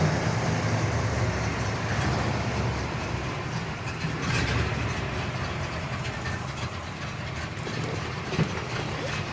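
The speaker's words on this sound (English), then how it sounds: "It's idling about 500 to 600 RPM right now." A 1967 Chevelle L79 with a 327 V8 idles at low RPM, giving a continuous rumbling drone that stays close and fairly loud with no talking.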